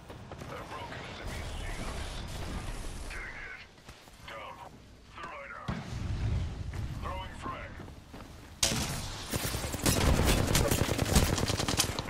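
Rapid bursts of video game gunfire crackle in dense volleys, getting louder and more sustained toward the end, while players talk over the shooting.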